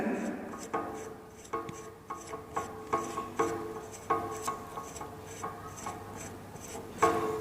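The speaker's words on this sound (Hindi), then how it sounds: "जीरो सेटिंग करने के बाद अब हम थिम्बल को खोलते हैं। देखिए इसे खोलें" The thimble of a screw thread micrometer is turned open, giving a regular run of small clicking ratchet ticks and faint metallic rubbing, close and quiet over a soft background.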